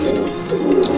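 Pigeons cooing at a fancier's loft in Bhopal, a steady low murmuring coo close by and continuous through the moment.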